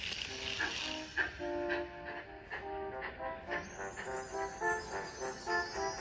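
A train clatters and rattles along icy tracks with rhythmic clanks and squealing, ringing metallic tones, fairly faint and unbroken.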